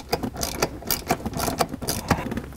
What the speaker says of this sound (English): grab you a ratchet with an 8 millimeter or 5/16 socket and remove your lower shifter boot